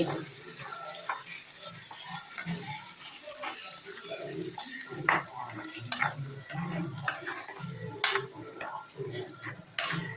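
A spatula turns and scrapes ground tomato pickle paste in a pan, with repeated clinks and scrapes over a low, steady cooking hiss.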